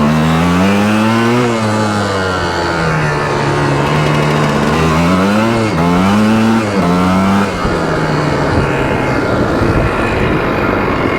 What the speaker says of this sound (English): It's been a long time since I rode a 3-wheeler.